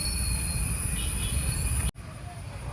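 A train on the Ernakulam–Thrissur railway line in Kerala passes close by with a loud, sustained roar and a thin high metallic whine of wheels, cutting off abruptly into a quieter rumble.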